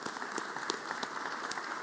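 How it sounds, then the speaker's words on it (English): Applause in the Mississippi Senate chamber, a steady wash of many hands clapping at moderate distance, fairly soft and unbroken with no talk over it. "So if you all would just give them another applause along with our coaches and our AD,"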